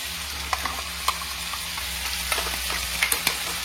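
Paste for a chicken curry with sesame fries in a hot pan, a steady close sizzle broken by a few light scraping stirs and taps, with no voices.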